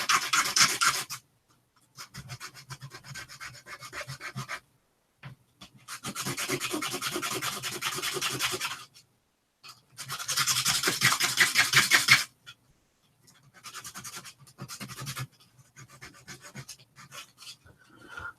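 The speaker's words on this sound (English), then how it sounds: "use a piece of proper sandpaper, and this is like a 1200," A small wooden miniature table part is rubbed on fine 1200-grit sandpaper in several separate bursts of brisk back-and-forth scratching, close and dry, with short silent gaps between strokes.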